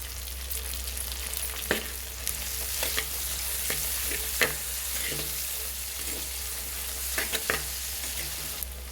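Coriander leaves fry in oil in a pan for chicken biryani, giving a steady close sizzle broken by occasional scraping stirs.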